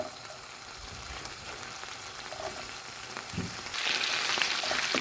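Onion sizzling in a hot pan with beef-flavoured oil left from searing meat, a steady crackling fry that grows louder and brighter toward the end, with a few clinks of stirring.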